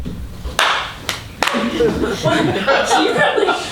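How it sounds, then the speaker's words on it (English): An audience claps at a live comedy show: a few sharp separate claps, then sustained applause mixed with chuckles and talk. "So all I need you to do is just clap."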